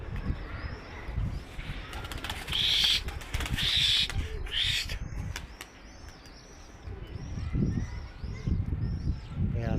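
A young tumbler pigeon is launched into the air, giving a few bursts of wing flapping amid outdoor bird sounds and distant cooing.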